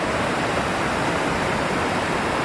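Flowing stream water rushes in a steady, dense wash of broadband noise, loud and close, with no breaks or other sounds.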